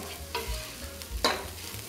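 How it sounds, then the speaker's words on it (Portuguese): Beef coated in wheat flour is stirred in a pressure cooker over high heat, with steady frying sizzle under a few scraping strokes of a utensil against the pot, close and without talk. "Você vai vir com farinha de trigo. Ó, coloca sobre a carne. Dá uma misturada."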